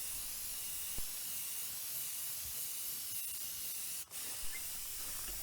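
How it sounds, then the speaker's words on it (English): A spray can of paint hisses continuously at close range while coating a farmhouse decor project, a steady even spray with a brief break near the end. "after I spray painted this, I looked at it and decided I actually like the way that this looks"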